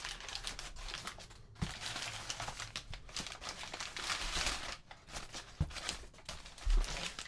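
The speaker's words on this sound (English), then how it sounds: "Okay, just going to unwrap this. It's going to get quite noisy, so bear with me." Wax paper being crinkled and torn off a new-old-stock 1982 Fender Stratocaster, a busy, continuous close crackling and rustling with sharp tearing bursts throughout, no talking.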